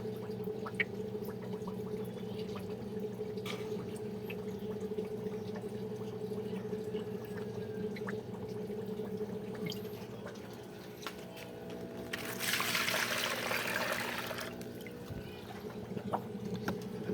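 Aquarium water being scooped and poured for goldfish fry, faint liquid trickling over a steady low hum, with a louder splashing pour near the end.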